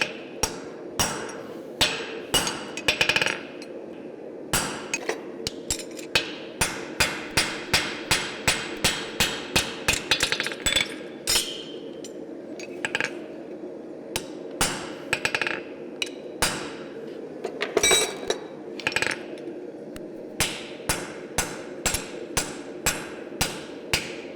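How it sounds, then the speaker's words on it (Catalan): A farrier drives a stamping punch into a horseshoe with a hammer to make the nail holes. Dozens of loud, ringing metallic strikes fall in quick rhythmic runs with brief pauses between them. "amb l'estampador, farem els forats"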